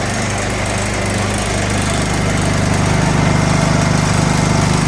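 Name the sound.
Honda EU2000i inverter generator running, tools rattling in toolbox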